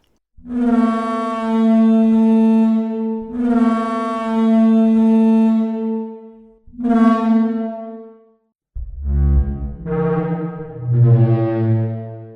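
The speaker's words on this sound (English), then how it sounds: "they simulated air passing through this upper crest area, which made this sound." Deep, resonant horn-like calls of a simulated Parasaurolophus, air passing through its crest, several long drawn-out blasts followed by lower, wavering tones, loud and alone.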